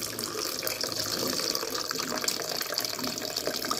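Tamarind water pours into a pot of dal rasam in a steady, gushing splash that stays loud and even from start to finish, close by and without talk.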